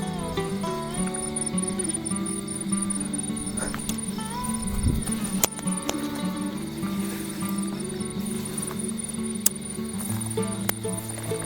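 A dense swarm of insects, likely mosquitoes, buzzes and trills nonstop at night at a dam campsite, steady layered whining tones close around, with a brief thump partway through.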